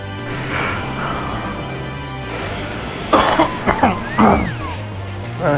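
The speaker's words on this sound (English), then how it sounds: "Man, I still got that cough" A man coughs in a short burst of several harsh coughs about midway, heard close and fairly loud over a steady low background hum.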